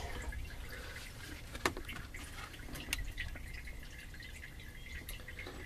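Fuel drains from a Volvo 700/900-series fuel tank during an in-tank pump replacement, a faint, close trickle with occasional drips standing out against quiet background.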